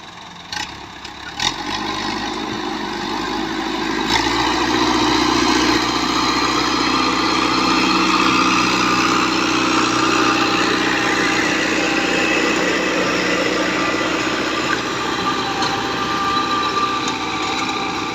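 A Dabang 19 model tractor runs with a rotavator, its engine a steady loud drone. A few sharp knocks come at the start before it settles into a continuous rumble with whining overtones.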